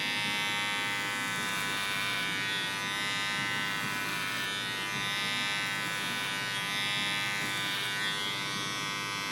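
Electric hair clippers fitted with a one guard, lever open, cut hair for a 360 waves taper in a steady, close, continuous buzz that holds at an even level throughout, with no talking.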